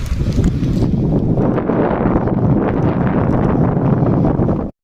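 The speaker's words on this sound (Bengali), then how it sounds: "দেখো কেমন ঢেউ হচ্ছে তো হাওয়া দিচ্ছে" Strong wind blowing hard over a Sundarban river with waves, a loud continuous buffeting roar with rushing water, steady and close throughout with no talk.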